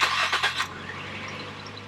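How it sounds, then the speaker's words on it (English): A 1999 Nissan Maxima QX with a 2.0 V6 starting up: a short burst of starter cranking catches, then settles into a steady, quiet idle hum. "But the noise it makes when you start up the engine is not only sweet,"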